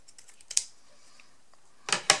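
Scissors snip through paper for a 19x19 mini scrapbook album, a few faint light ticks followed by two sharp, close cuts near the end in an otherwise quiet room.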